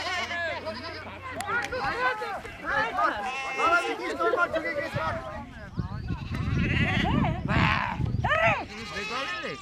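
A flock of sheep and lambs bleats continuously at close range as the herd comes back from pasture into a village, with many overlapping calls and human voices mixed in.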